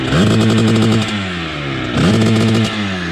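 Restricted Rieju 80 Airsal motorbike engine revving loudly in two bursts, each climbing in pitch then dropping back to a steady idle, close up with no talk.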